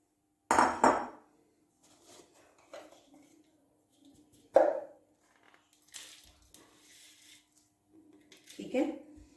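A spoon stirs a ground mixture into golden desi ghee in a pan for panjiri, giving sparse clanks and scrapes against the metal, with one sharp knock at the start and quieter taps in between.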